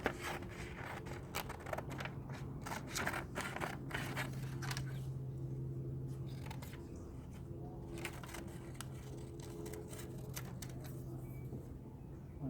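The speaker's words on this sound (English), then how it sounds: "So we'll cut out the A." Scissors snipping letters out of a sheet of paper, a series of short sharp cuts in quick clusters, close and fairly faint against a steady background hum.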